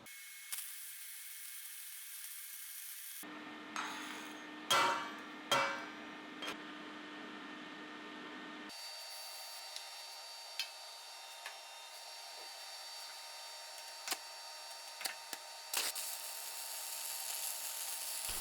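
Stick welding steel with an Everlast Power Arc 300 in a garage: a steady broadband hiss and crackle runs in long stretches, broken by brief pauses and occasional sharp taps.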